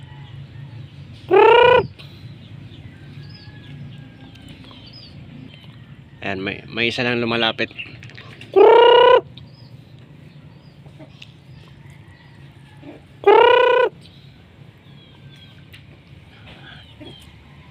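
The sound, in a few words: pet chickens clucking at feeding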